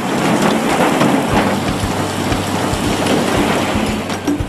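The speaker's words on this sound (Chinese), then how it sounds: "采访的过程中，达茂奇突然下起了冰雹" A sudden hailstorm in Darhan Muminggan Banner: loud, dense pattering of ice striking surfaces, with deep rumbles rolling underneath, continuous for several seconds with no voices.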